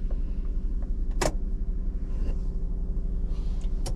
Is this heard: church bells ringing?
no